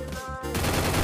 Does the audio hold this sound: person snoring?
no